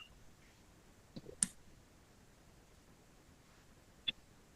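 A computer keyboard or mouse clicks a few times, faint and isolated sharp taps spaced over a quiet room background.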